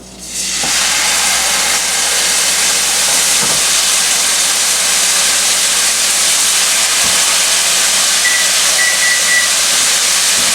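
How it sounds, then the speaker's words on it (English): Pork chops searing in a hot pan make a loud, steady sizzle, continuous and unbroken from start to finish with no voices. "it should be hot enough that you hear it start to sizzle right away"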